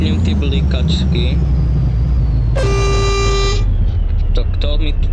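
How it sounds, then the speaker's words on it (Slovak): A car horn in a Czech bus simulator game gives one sustained honk of about a second in the middle, over a steady low engine rumble, with speech around it. "To kto mi tu trúbi?"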